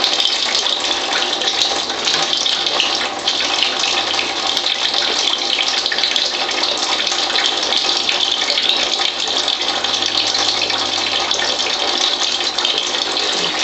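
Acidic turbo water pours steadily from a water ionizer into a cup, a loud, continuous splashing stream like a running tap that holds without pause.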